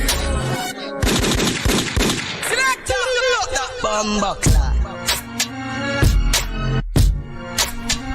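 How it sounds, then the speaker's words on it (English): Music during a hoop dance class, with bursts of rapid gunfire-like effects cutting in, sharp repeated cracks layered over melodic and vocal sounds. "Okay, so we got some gunfire."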